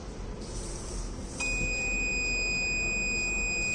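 A transformer oil temperature monitor's steady electronic buzzer alert switches on partway through and holds continuously over a low background hum.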